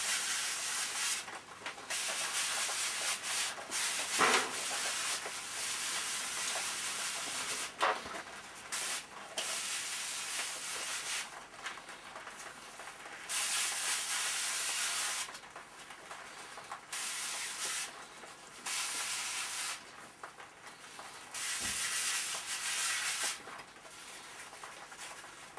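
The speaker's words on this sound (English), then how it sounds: "It's okay spraying with organic stuff like this because you don't need to use a mask" Organic pest and mildew control spray hisses onto garden plants in repeated bursts of steady spraying, separated by short pauses, fairly close and moderately loud.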